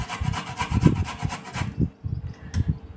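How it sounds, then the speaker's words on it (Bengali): Ginger and garlic are peeled and scraped by hand in quick repeated rasping strokes, close and fairly loud, pausing briefly near the end before a few more scrapes. "আদা রসুন ছুলছি বন্ধুরা"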